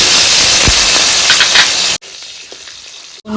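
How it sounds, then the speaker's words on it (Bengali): Potatoes fry in mustard oil in a kadai with a loud, close, hissing sizzle for about two seconds, then the sound drops to a much quieter level before briefly swelling again at the end. "এখন আমি আলুগুলি ভেজে নেব"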